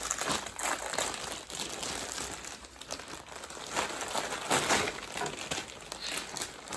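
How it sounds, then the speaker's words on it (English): A 250-gram batch of crackers tipped into a plastic bag gives a steady, close crinkling and rustling of plastic with small rattles of crackers, continuous for several seconds with no talking. "Now we are going to get a plastic bag and put all the crackers in."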